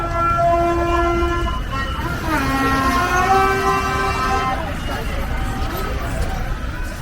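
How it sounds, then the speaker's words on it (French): Vehicle horns honk in a street in Abobo or Yopougon, Côte d'Ivoire, celebrating a football goal by the national team: several long, tonal blasts overlap and shift in pitch over steady traffic noise, fairly loud and close. "Donc les véhicules klaxonnaient, signalaient qu'il y avait un but."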